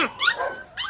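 A small mixed-breed puppy lets out a few high, sharp yips and barks close by, in quick bursts with a short pause before the last one.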